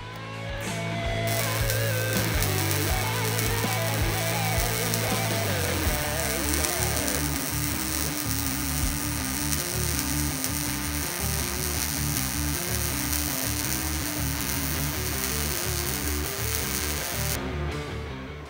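MIG welding at a makerspace, a steady crackling sizzle of the arc that runs loud and close for most of the stretch, starting after a short lead-in and stopping near the end.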